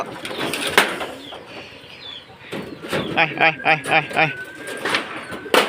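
Tethered pigeons in a Bangladeshi village coo nearby in a rhythmic run of soft throaty calls, mixed with wing flaps and clatter, while someone talks over parts of it.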